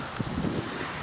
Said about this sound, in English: Sorry about the wind, it's really blustery.